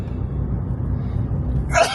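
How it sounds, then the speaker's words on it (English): A single sharp sneeze bursts out near the very end, loud and close, after a stretch of low rumbling background noise like a car interior. "I'm sneezing so bad today"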